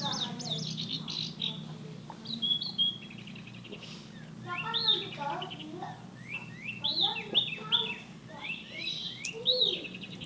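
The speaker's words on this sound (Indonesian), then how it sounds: "ada suara-suara burung ya." Several birds chirp and trill in bursts, fairly close, over a low steady hum during a bicycle ride, with quick rising and falling calls repeating throughout.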